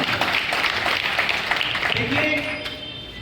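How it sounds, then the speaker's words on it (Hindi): Applause from the audience at a community youth-circle meeting about missing girls, a burst of many hands clapping that carries on steadily and fades toward the end, with voices talking faintly underneath. "तो एक बार सबके लिए जोरदार तालियां बजाएं।"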